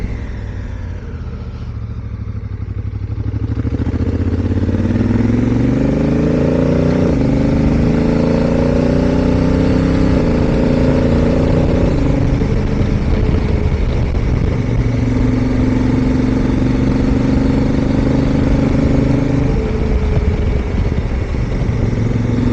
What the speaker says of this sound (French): Sympa d'être en moto là.